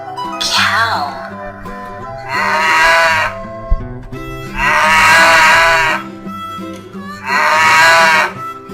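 A cow moos in several long, loud, drawn-out calls separated by brief pauses.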